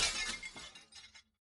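A pile of fine china and utensils collapses in a video game, a loud burst of shattering porcelain and clinking shards that tapers off over about a second.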